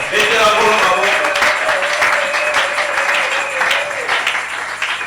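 A church congregation applauds during a Sunday service, dense and sustained clapping that fills the space throughout, with a sung or spoken voice carrying over it.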